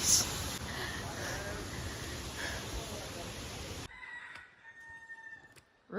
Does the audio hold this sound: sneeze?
no